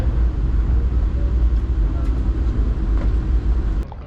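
Inside a Vande Bharat train running from Chennai Egmore to Nagercoil, a loud, continuous low rumble of the moving carriage fills the space, with faint rattles and a brief sharp knock near the end.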